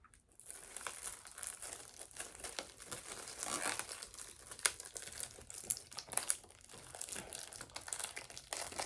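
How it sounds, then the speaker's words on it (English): Cling wrap crinkles and tears as hands pull it off a package, a close, steady crackling and rustling with sharper rips scattered throughout, no voices over it. "So you're going to sit here with me while I try and tear this open."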